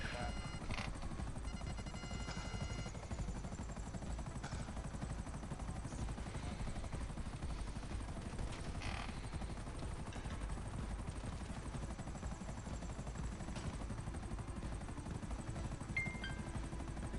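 A helicopter in GTA Online gives off a steady, low rotor drone that stays faint and continuous, with a voice talking over it.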